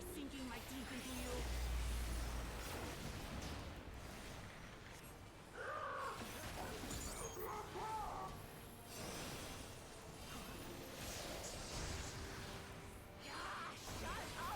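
A huge bird in Final Fantasy XIV giving a few loud harsh caws amid whooshes and crashing battle effects, with voices talking over much of it.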